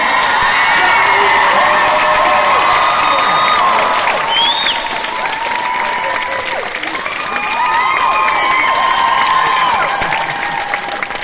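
A large premiere audience at a Murdoch Mysteries Q&A cheers and applauds loudly and continuously, with shrill whoops and screams rising above dense clapping throughout.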